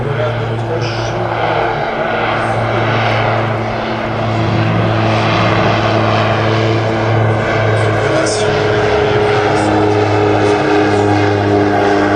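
A Fouga Magister jet flying at the Avignon air show, a loud continuous engine roar held for the whole stretch, with a commentator talking over it on a public address.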